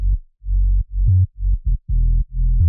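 Deep future house sub bass thumps through a rhythmic pattern of low, rounded notes with short breaks between them, loud and unaccompanied.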